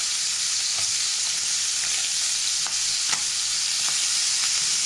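Tangra fish frying in hot oil in a wok, a constant loud sizzle with scattered small pops and spits, no voices.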